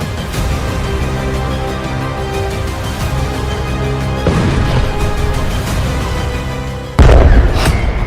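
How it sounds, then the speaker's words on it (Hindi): Explosions in Tel Aviv during wartime: loud booming rumble sustained under dense city noise, swelling around midway, then a sharper, louder burst near the end. "तीन धमाकों से दहला तेल अवीव"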